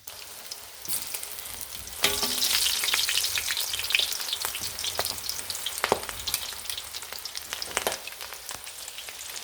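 Floured enoki mushrooms go into hot oil and begin deep frying with a steady, bright sizzle. The hiss jumps louder after the first couple of seconds and holds, with scattered pops and utensil taps and no talk.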